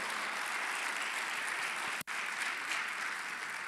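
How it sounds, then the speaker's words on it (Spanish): Sustained audience applause at a church gathering in Madrid, welcoming a visiting pastor from Beersheba, a steady dense wash of clapping with one abrupt brief dropout midway. "vamos a darle con fuerte aplauso la bienvenida al pastor Eduardo, allí de Beersheba"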